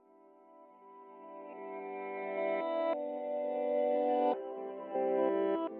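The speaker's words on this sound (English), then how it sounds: "Even with a reverse guitar sound." A reversed guitar part in a soulection production, made in Ableton 11, swells in with sustained tones that keep rising in level and change in steps, sitting in a layered, effected music mix with no talk.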